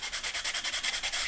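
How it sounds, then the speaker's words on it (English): Sandpaper of about 400 grit rubbed back and forth along the side of a model rocket body, filled with putty, making a fast, even rhythm of close, hissing scrapes with no talking. "this is probably 400 grit sandpaper. I'm just going to sand the sides."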